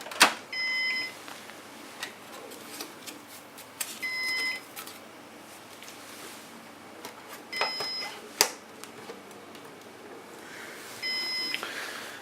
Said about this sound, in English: as the Synology recognizes the new disk, it will actually stop beeping